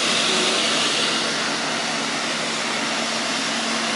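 A vacuum cleaner meant for picking up spilled water drones steadily and evenly throughout, a broad constant whir filling the space at moderate loudness with no voices over it.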